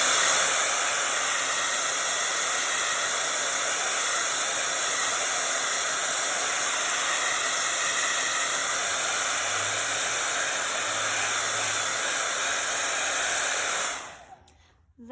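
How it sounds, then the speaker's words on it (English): A hair dryer drying paint blows in a loud, steady, close whoosh for about fourteen seconds, then cuts off abruptly near the end. "I'm gonna blow this dry because I really want to rest my hand and I don't want to smear paint everywhere."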